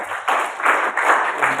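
An audience at an Indonesian school outreach session on religious moderation breaks into steady, dense applause, many hands clapping together in a sustained, fairly close burst from start to finish.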